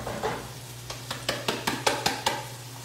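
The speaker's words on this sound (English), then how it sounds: "And so now I'm going to add the garlic." Garlic hits a hot pan and sizzles, with a steady frying hiss under a series of about eight sharp utensil clacks and scrapes of stirring, close and fairly loud.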